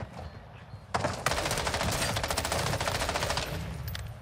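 After a brief quiet moment, a burst of rapid automatic gunfire erupts in Call of Duty: Modern Warfare II and continues in a dense, loud rattle for several seconds.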